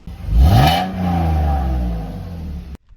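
A 2005 Ford Focus with coilover suspension revs and accelerates on a drive, its engine rising in pitch and then settling into a steady hum before cutting off abruptly.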